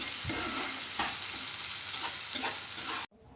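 Garlic frying in a pan for palak paneer while being stirred, giving a close, steady sizzle with several scraping strokes of the spoon, then stopping abruptly at the end.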